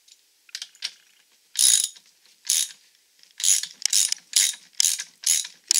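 A flange nut on a Ryobi bench grinder fitted with a polishing wheel is tightened in short, loud bursts of ratcheting clicks, about eight separate pulls with brief pauses between them, close up and with no voices.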